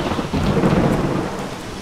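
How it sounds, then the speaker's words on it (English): Rain and thunder effects from the video game Cube Life: Island Survival, heard as a steady dense hiss of rainfall with a low rolling rumble of thunder, alone with no voices. "And I see we have rain now, a new water effects."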